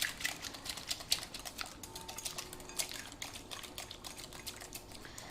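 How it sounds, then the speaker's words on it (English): Cake batter thickened with oil and milk being whisked hard in a bowl, a quick steady run of close, faint clicking and tapping strokes with no talking. "Just giving it a really good whisk round."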